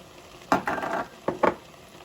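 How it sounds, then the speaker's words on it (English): Sausage being added to fried rice in a rice cooker pot, a few short scraping and clattering bursts of stirring in two clusters, close and moderately loud. "let me add the sausage first"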